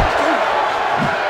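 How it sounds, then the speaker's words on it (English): Arena crowd noise from the Fight Night Round 3 boxing video game, a steady roar of cheering that swells as a powerful haymaker lands, heard up close and continuous with a brief lower thump near the end. "Just listen to that crowd react as that powerful haymaker forces him back."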